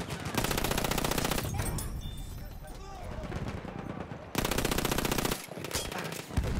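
Frommer Stop Auto machine pistol firing in Battlefield 1 on PS5, loud sustained bursts of rapid automatic fire, with a pause of scattered shots and another long burst near the end.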